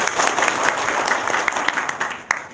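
A short burst of applause from a small group, steady clapping with a few sharper claps near the end.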